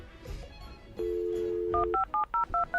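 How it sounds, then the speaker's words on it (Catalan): A telephone number is dialed with DTMF tones: a steady tone for about a second, then a quick series of six short, evenly spaced beeps, loud and clear. "Estem marcant."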